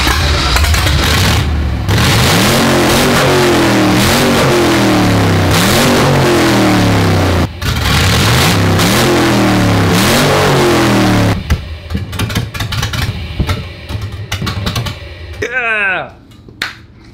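A car engine freshly swapped in roars through loud, repeated revs that climb and fall in a steady cycle. Near the end it drops back to a rough, quieter idle.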